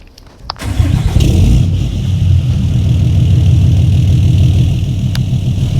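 A Ram pickup truck engine cranks and catches at a truck show, then settles into a loud, steady, deep idle that rumbles close by for several seconds with no talk over it.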